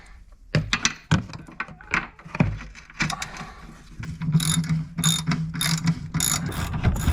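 A ratchet socket wrench loosens the lower control arm wishbone bolt on an Audi TT, with bursts of rapid clicking and metallic clunks close by, then a steadier grinding ratchet run near the end.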